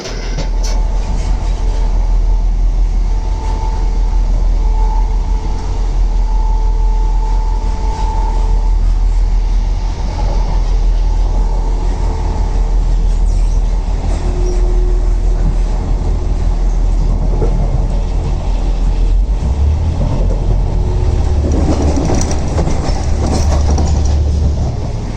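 A train travels the Cambrian Line in Wales toward Shrewsbury, with a loud, continuous rumble of wheels and carriage noise filling the whole stretch and no speech.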